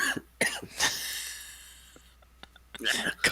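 Several harsh coughs burst out from a person with ash in the throat, clustered at the start and again at the end, close and loud, with quiet breathy sounds in between.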